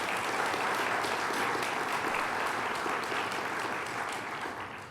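Audience applause at a state grant award ceremony honouring a young rising star, a dense, steady wash of many hands clapping that holds loud for the full stretch and eases off slightly at the end.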